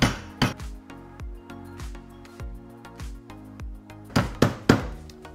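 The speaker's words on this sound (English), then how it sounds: "Bit of a noise warning because I am going to crush this ice now." Ice wrapped in a cloth is crushed by hand with a series of blunt, close thuds, about a dozen uneven strikes, the last few louder and sharper with a glassy clink.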